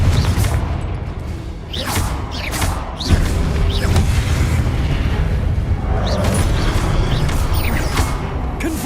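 In the wizarding game Hogwarts Legacy, a Confringo spell goes off repeatedly, producing several loud booming blasts with crackling bursts and rumbling debris spread across a dense, noisy stretch of play.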